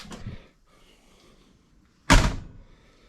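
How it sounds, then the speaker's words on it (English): A repaired car door is shut, giving one solid, loud thunk after a quieter rattle and a brief pause, with the slam ringing out and decaying. "That's the best that door's ever closed since we got it."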